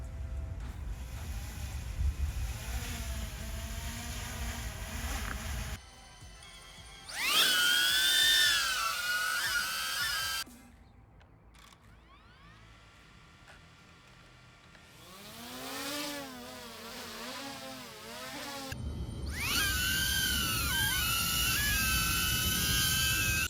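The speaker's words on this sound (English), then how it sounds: "So as you can hear the difference between the two drones, my DJI Mini 3 Pro, pretty quiet compared to the Avata." Two drones, a DJI Avata and a DJI Mini 3 Pro, are heard in alternating bursts, with loud whining, high-pitched buzzing passages, pitch sweeps as they manoeuvre, and quieter gaps of wind and hiss between, with no talking.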